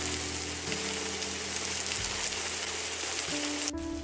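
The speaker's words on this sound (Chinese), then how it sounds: "看到有些微黄就可以翻过来，每一个面大概煎2分钟" Hakka stuffed tofu, meat side down, pan-fries in hot oil, giving a dense, continuous sizzle that stays loud and even from start to finish, with a brief scrape near the end.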